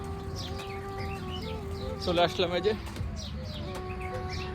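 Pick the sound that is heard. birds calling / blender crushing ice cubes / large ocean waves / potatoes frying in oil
birds calling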